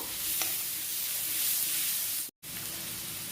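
Cabbage and egg stir-frying for fried rice in a pan over high flame, a steady soft sizzle with light scraping of the stirring, one brief silent break near the end.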